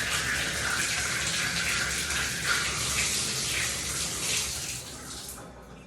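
Water gushes steadily from a Moen bathtub faucet into the tub, a loud continuous rushing close by that eases slightly toward the end.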